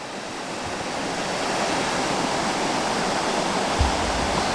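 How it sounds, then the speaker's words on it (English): Small creek waterfalls spilling under a little woodland bridge along Curtis Creek, a steady, close wash of falling and rushing water that fills the whole moment with one brief low thump near the end. "the water that goes under it, is quite pretty. Little tiny waterfalls."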